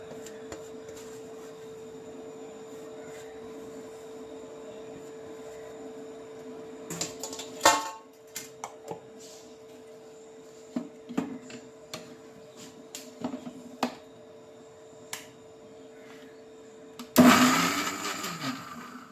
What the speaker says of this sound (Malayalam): മഞ്ഞൾ പൊടി കുരുമുളക് പൊടി ജീരകപ്പൊടി ഇത്രയും കൂടെ അതിനകത്തിട്ട് നമുക്കൊന്ന് അരച്ചെടുക്കാം